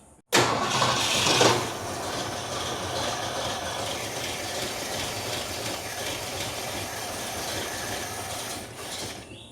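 A 1981 Ford engine, once damaged by an engine fire, cranks briefly, then catches and settles into a steady, loud, close idle that runs uninterrupted before cutting off at the end.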